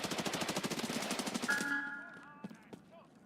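Rapid automatic gunfire in the video game Escape from Tarkov Arena, a fast loud burst of evenly spaced shots for about a second and a half, followed by a few scattered distant pops and thuds.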